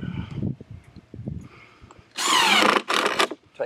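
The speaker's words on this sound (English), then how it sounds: "Tighten that screw down." A power drill drives a screw into a wooden playhouse bed in two short close bursts, preceded by quieter handling clatter and knocks.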